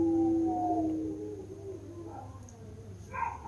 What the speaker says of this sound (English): Neighbors' dogs are going because it's time for their evening meal.